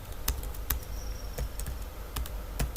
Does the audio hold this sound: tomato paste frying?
no